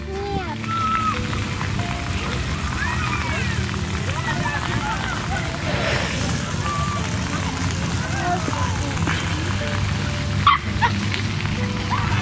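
A small dog barks and yips in a park, the sound steady over a constant background wash, with people talking nearby now and then.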